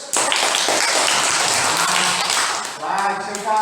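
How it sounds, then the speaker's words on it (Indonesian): A fifth-grade class applauds a student reader in a rush of many hands clapping together for about three seconds, then the applause fades as a teacher's voice begins speaking. "Baik, tepuk tangan dulu yang sudah membaca teks."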